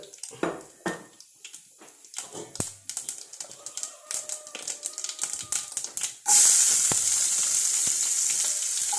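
Mustard seeds spluttering in hot oil on a heated dosa griddle with curry leaves: irregular sharp pops and crackles for about six seconds, then a sudden loud, steady hiss as something is added to the pan.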